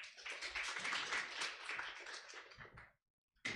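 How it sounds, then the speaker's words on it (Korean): An audience at an academic lecture on health functional foods claps to welcome a speaker, a dense burst of many hands applauding that fades out near the end, with a brief return of clapping at the very end. "큰 박수로 환영해 주시기 바랍니다."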